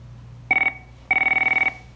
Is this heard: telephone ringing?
yes